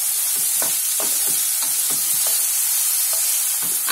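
Potatoes frying with green chillies, crushed pepper and spices for sabudana khichdi, a loud constant sizzle with a rhythmic series of spatula scrapes, about two or three per second.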